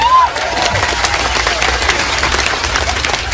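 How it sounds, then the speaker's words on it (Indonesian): Loud audience applause and crowd noise at a religious lecture, dense clapping throughout, close and continuous. "tepuk tangan untuk NO Taiwan"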